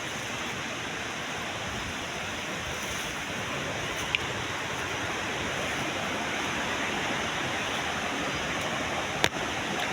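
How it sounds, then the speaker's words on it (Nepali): A forest stream rushes steadily nearby, a continuous even wash of water with two faint clicks, and no voices. "खोला पनि यहीँ छ।"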